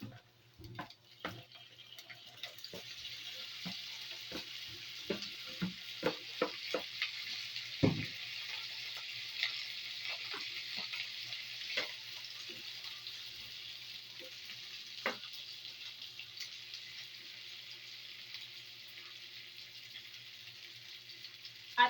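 Tofu returned to a pan and frying, a steady hiss of sizzling oil with scattered pops and utensil clicks, close and fairly quiet, continuing for the whole stretch.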